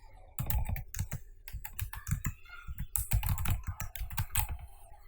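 Fingers type on a computer keyboard in quick irregular bursts of crisp, close clicks and taps, with short pauses between runs of keystrokes.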